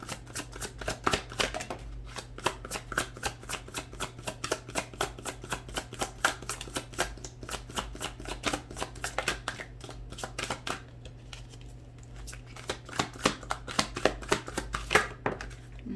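Tarot cards shuffled by hand close up, a rapid run of crisp riffling flicks that keeps going for many seconds, pauses briefly, then resumes, with no talking.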